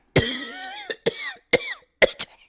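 Someone coughs four times in quick, harsh bursts with short gaps between them, close and loud in an otherwise quiet room.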